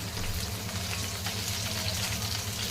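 Chopped green chillies and cumin sizzle in hot oil for a tempering, a steady dense hiss over a low hum, with no break and no voices.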